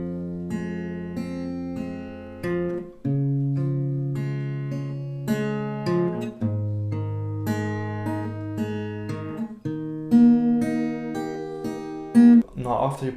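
Acoustic guitar slowly picking the chord pattern of a song, with string notes ringing in a steady arpeggiated sequence at close range and no voice over it.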